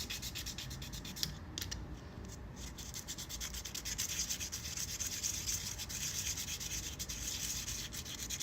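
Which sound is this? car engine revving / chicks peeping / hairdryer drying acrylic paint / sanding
sanding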